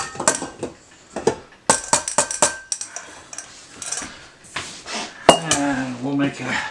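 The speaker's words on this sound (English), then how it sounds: "So what we're going to do is incorporate our 3 1/4 cups of flour." Flour is stirred into French bread dough in a bowl, with close, irregular clinks and knocks of a utensil against the bowl and short scraping pauses between them.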